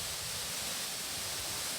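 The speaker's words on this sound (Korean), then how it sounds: "때마침 내린 비가 거대한 월광폭포를 만들고 떨어지는 물소리에 뽀얀 물보라를 일으키는 풍경은" Water from the roughly 30-metre Wolgwang waterfall, swollen by recent rain, plunges with a steady, dense roar that holds loud and unbroken throughout.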